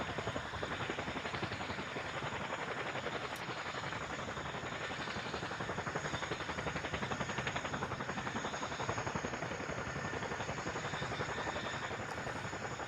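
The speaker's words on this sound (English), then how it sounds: "As the Chinook gently begins its corkscrew climb into the hover" A twin-rotor Chinook helicopter climbs in a corkscrew into a hover over the Farnborough airshow display, its dense, steady rotor and engine roar loud and unbroken throughout, with no voices.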